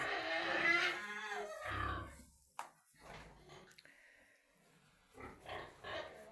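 Newborn piglets and a farrowing sow grunt and squeal close by in short, irregular bursts, with soft snuffling between the calls.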